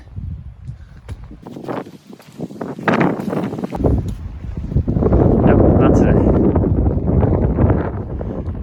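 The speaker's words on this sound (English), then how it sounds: "the wind gusts today have been said to be blowing up to 50" Strong gusts of wind on a mountain in the Grayson Highlands, Virginia, buffet the microphone in loud, roaring rushes, with a person speaking briefly near the start.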